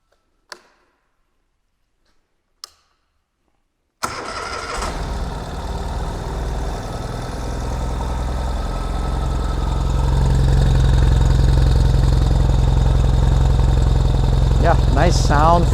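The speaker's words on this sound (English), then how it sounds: "Nice sound from the exhaust." Ural Gear Up Heritage Pustinja sidecar motorcycle, a 2022 model, starts after a few sharp clicks and settles into a steady, close exhaust idle that grows slightly louder, with brief voice-like sounds near the end.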